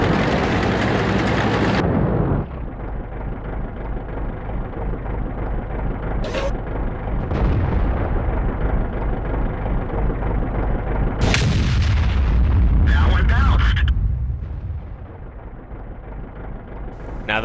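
Heavy cannon blasts from an ISU-152 tank destroyer in World of Tanks, a loud booming shot that rolls out into a long rumbling decay, followed later by another big blast and crackling impact noise.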